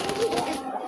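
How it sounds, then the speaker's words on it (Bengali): A pet pigeon gives a brief, low, throaty coo, heard close and lasting under a second, with a voice overlapping it. "এই হচ্ছে আমার শখের কবুতর।"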